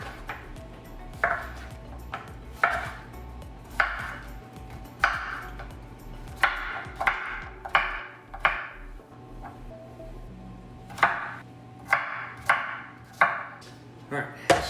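A knife chops butternut squash crosswise into half-inch cubes on a board, producing a dozen or so sharp, evenly spaced thuds, close and clear with no talking.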